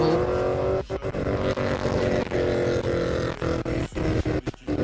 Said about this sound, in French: Oh, Camaro.